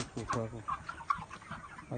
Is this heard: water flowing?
no